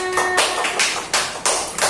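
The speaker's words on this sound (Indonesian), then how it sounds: "Tepuk tangan." Children clapping their hands together in a classroom, a few loud, rhythmic bursts of claps close by, with no talk over them.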